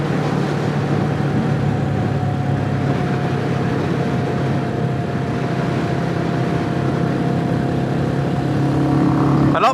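A Royal Enfield motorcycle cruises in top gear on a country road in the Scottish Borders. The engine gives a steady, loud drone with wind rush, holding an even pace throughout.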